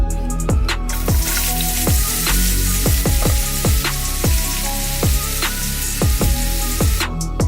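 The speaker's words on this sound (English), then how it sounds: "Then we will add the onions and fry for 2 minutes." Onions frying in hot oil in a pan for masala Maggi with Punjabi tadka, a loud, continuous close sizzle with crackles and pops running throughout.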